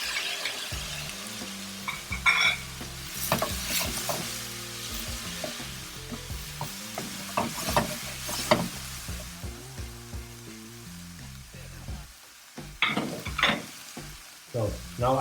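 Onions and tomatoes sizzle in a pan while being stirred for a meatballs and green beans dish, with repeated scraping strokes and clatter over a steady close fry.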